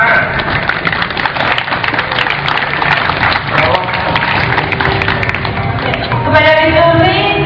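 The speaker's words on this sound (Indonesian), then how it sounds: "Ya, tepuk tangan." An audience claps through a silat martial arts demonstration, the dense applause steady and loud, with a voice rising near the end.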